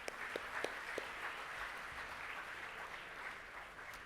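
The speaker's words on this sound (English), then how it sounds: "ladies and gentlemen, please give a round of applause to Prashant and his crew." Faint, distant applause from a conference audience, a steady wash of clapping with a few sharper individual claps near the start.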